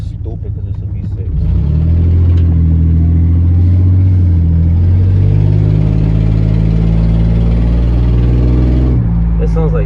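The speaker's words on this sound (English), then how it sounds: "Even if I were to put an exhaust on it, it'd just be sounding stupid because it's a V6." A Ford F-150 pickup's V6 engine with an exhaust leak idles and then revs up, a loud, low steady rumble with rising and falling pitch, heard close up.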